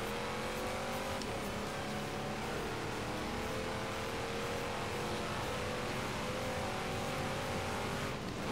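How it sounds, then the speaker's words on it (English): A Lamborghini driven in Forza Horizon 3 holds a steady, close engine drone for the whole stretch, with sustained tonal harmonics and a brief shift or pitch dip early on, and no talking. "I'm driving a Lamborghini"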